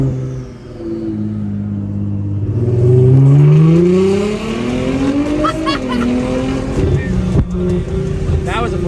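A Nissan GT-R's twin-turbo engine revs and climbs, with rising harmonic tones as the turbos spool up, loud and close. Crackles and pops follow, and a voice talks over parts of it.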